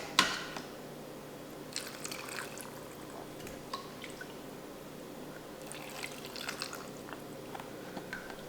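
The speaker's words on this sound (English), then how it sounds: "Then it's just a matter of pouring the brine solution in the jars and filling them up." Brine solution trickles and splashes softly through a funnel into jars of pickled avocados, a faint, continuous pour with light drips.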